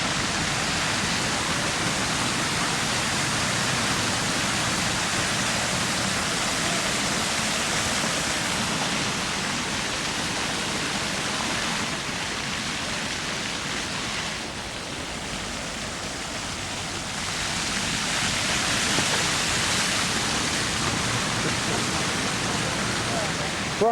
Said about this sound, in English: you hear the water behind me